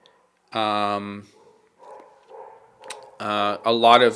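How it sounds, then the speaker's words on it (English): A dog barks in loud, close bursts: a long harmonic bark near the start, low whines and whimpers in the middle, then another pair of sharp, strained barks at the end, with no talking. "now we've got a dog freaking out"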